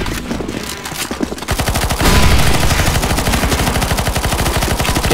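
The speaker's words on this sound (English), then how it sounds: "Shoot the zombies now, shoot the zombies." Automatic gunfire rattles out in rapid, sustained bursts while zombies are shot in CS:GO Zombies, loud and close, after a short lead-in of scattered shots.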